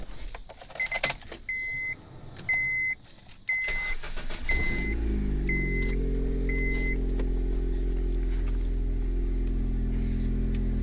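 Turbocharged R18 engine in a Honda Civic, fitted with fresh two-step-colder spark plugs, cranks after several short starter chirps and catches into a steady, loud idle with a strong low rumble. Key jingles are heard near the start.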